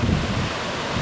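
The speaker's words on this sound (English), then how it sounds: "Here comes a wave" An ocean wave breaks at Pfeiffer Beach as a loud, broad rush of surf and churning water, roughened by wind buffeting the microphone, with no voices.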